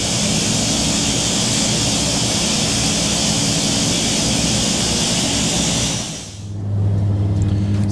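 Steady loud engine drone of an aircraft taxiing to the runway in the Prepar3D flight simulator, continuous roar that dips briefly then settles into a lower steady hum.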